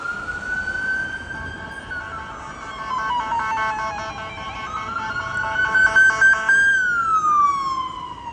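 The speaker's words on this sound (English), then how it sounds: "let this stupid cop car go by" A police car siren wails loudly and sweeps up and down as the cruiser passes close by on a city street in Newark, New Jersey, rising and falling over several seconds against steady traffic noise.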